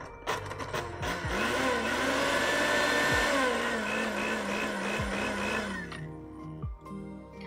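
A blender in pulse mode chopping melon roars in short bursts, pitch dropping at each stop and restart, before cutting out into quieter clatter.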